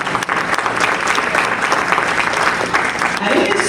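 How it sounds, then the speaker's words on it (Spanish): An audience at a book presentation and discussion event claps in sustained, dense applause from start to finish, with a few voices faintly mixed into the crowd noise. "Por favor, un fuerte aplauso."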